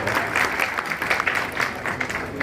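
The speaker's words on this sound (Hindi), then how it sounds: "इन चंद लोगों के लिए तालियां बजा दीजिए" Steady applause from a seated audience at a speech gathering, dense and fairly close, sustained across the whole stretch with no voices on top.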